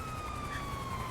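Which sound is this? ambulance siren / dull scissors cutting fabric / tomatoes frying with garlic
ambulance siren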